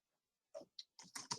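Quiet keystrokes on a computer keyboard, five or six close, light clicks in an uneven burst after a moment of silence.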